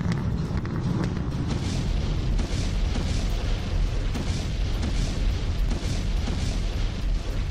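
A Russian thermite rain bomb detonates in a continuous, loud roaring rumble of blasts and crackling bursts that lasts the whole span without pause.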